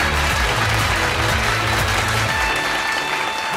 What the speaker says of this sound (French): commencez à applaudir Sylvie Gervais